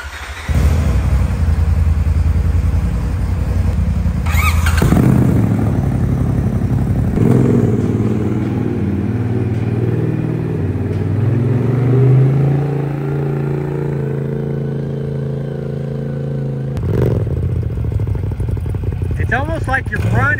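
A Polaris RZR side-by-side fitted with two engines, driving with a loud continuous engine roar and rumble that rises and falls with throttle, along with rattling and clatter, while people talk over it.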